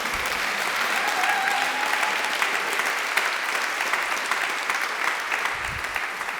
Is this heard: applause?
yes